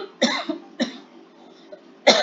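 A woman's dry, close coughs during a spoken Bhagavad Gita lesson, three sharp bursts with short pauses between, the last loudest.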